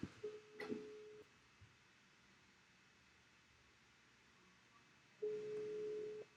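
An outgoing phone call ringing on speakerphone, heard as two separate ringback tone bursts about four seconds apart, each lasting around a second over a quiet room hiss, with a faint click near the first.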